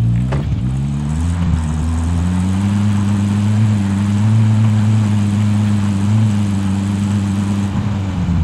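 A vehicle engine hums loudly at a steady, sustained low drone as the player drives in Modern Warfare 2019, holding an even pitch with a brief bump at the start, with no talk over it.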